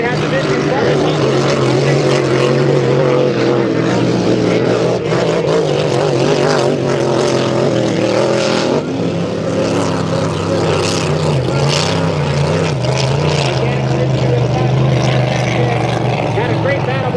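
Grand Prix hydroplane racing boats roar past at a power boat regatta, a loud sustained engine drone with shifting pitch as they round a turn, with an announcer's commentary running over it.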